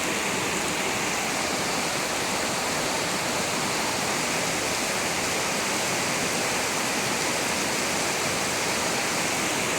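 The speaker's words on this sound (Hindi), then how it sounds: "आप देख सकते हो रोड पे बहुत ज़्यादा पानी भर गया।" Heavy rain and floodwater rushing across a flooded road at night, a dense, steady broadband roar of pouring and flowing water throughout, fairly loud and unbroken, with no voices.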